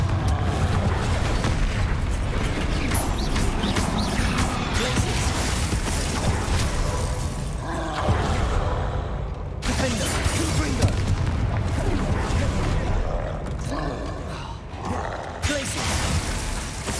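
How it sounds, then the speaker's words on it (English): Confringo fire-blast spell in the Hogwarts Legacy video game, a dense run of booming blasts and crashing impacts over a continuous rumbling game soundscape, loud and close throughout. "Confringo!"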